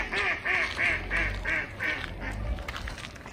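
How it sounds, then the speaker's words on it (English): Ducks quacking at a park pond, a steady run of about six loud nasal calls in quick succession, fairly near, over low outdoor background noise. "obviously there's ducks"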